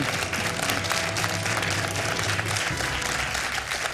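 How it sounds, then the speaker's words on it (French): Studio audience applause on a TV quiz show, a steady, dense clapping that fills the whole stretch at an even level, with no speech over it. "Et je fais comme Cécile, j'applaudis."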